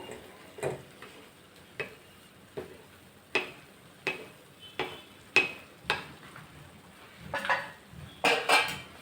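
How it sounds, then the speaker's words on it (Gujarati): A rolling pin stirs taldhari lapsi in a pan, giving a regular series of sharp knocks and scrapes against the metal, close up and spaced about half a second apart. "વેલણ હોય ને એને સાઈડમાંથી આવી રીતે હલાવવાનું."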